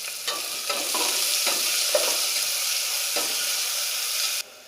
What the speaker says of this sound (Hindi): प्याज को भी ब्राउन कर लेंगे अच्छे से।